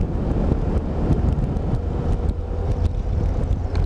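A Honda CBF1000 motorcycle on an open road as the revs climb: a steady, loud engine drone mixed with heavy wind rush that holds without a break for the whole stretch, and nobody speaks.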